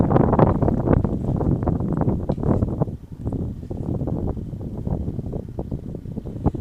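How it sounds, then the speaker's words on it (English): Gusty wind buffets an outdoor microphone, a constant low rumbling roar that surges and eases without pause. "Well, it's still quite windy."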